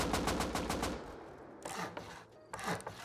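Rapid gunfire in a Roblox Bedwars spin-off game: a quick run of evenly spaced shots up front, then a pause and a couple of louder, scattered bursts with scraping impacts.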